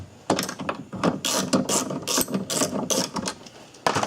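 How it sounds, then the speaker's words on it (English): A gear ratchet wrench loosens 10mm bolts on the right front window regulator of a Buick LeSabre, giving rapid close clicking ratchet bursts in short repeated strokes with brief pauses. "Use the gear wrench, get in there to get that."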